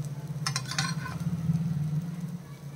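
Potato tikki for ragda pattice frying in a nonstick pan: a low, steady sizzle with a few light scrapes of a spatula near the start, heard close and fairly quiet.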